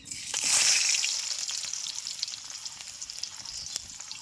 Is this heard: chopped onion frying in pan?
yes